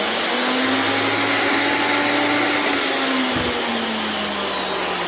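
A DeWalt DW707 miter saw, just repaired after a broken rear pivot assembly, runs with a steady high motor whine, holding loud and even before the pitch slowly drops as it winds down.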